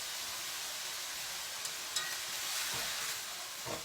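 A spoon stirs brussels sprouts pasta with olive oil and added liquid in a pan, producing a steady soft sizzle and hiss with faint scraping and clinks near the end.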